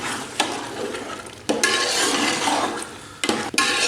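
Black chickpeas being stirred with yogurt in a cooking pot: a wet, churning scrape with a few sharp knocks of the spoon against the pot, close and fairly loud, with no speech.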